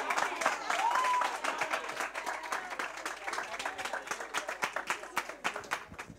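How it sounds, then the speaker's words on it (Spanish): A live audience at a business creativity and innovation event bursts into a big round of clapping, dense and steady at first, then thinning into looser, scattered claps; a brief whistle-like tone rises early on. "¡Ah, ¡Aplauso gigantesco!"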